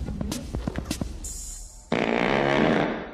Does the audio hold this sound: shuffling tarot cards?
no